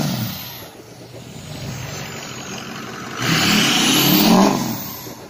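A four-wheel drive vehicle stuck on ice beneath hard-packed snow revs its engine loudly and close by, holding a steady drone before surging higher near the end.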